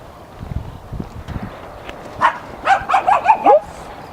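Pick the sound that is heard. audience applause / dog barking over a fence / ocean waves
dog barking over a fence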